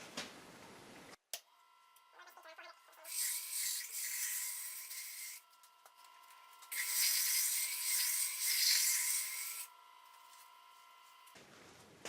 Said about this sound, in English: I'm sanding this starting with 100 grit.